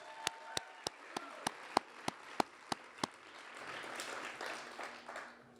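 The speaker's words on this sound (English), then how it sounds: "Let's give one more round of applause to the Branham High School Jazz Ensemble" A few slow, sharp, evenly spaced claps ring out at a school district event, then fade into a softer wash of scattered crowd clapping and murmur.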